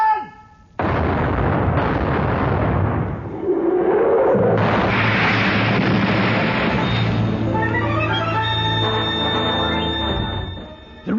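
A sailing warship's cannon broadside in a dramatized sea battle, with heavy booming shots and rumbling blasts followed by crashing impacts and a lingering ringing tone, loud and close, with no voices over it.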